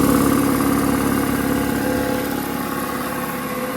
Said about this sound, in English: The one thing about bigger air compressors, though, is they take a lot longer to air up.